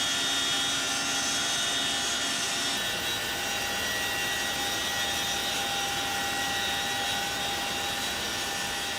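Steady helicopter engine drone from inside the cabin, heard during a special forces skydiving team's flight to a high-altitude jump competition, a loud continuous roar with whining tones and no talk.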